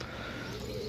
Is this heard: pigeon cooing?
yes